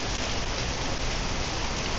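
Steady heavy rain pouring down, a dense continuous hiss of drops on surfaces, loud and even with no talk.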